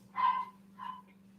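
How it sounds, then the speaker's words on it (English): Dog barking twice indoors, a louder bark followed by a softer one, faint and somewhat distant over a steady low electrical hum. "you're going to hear my dog barking"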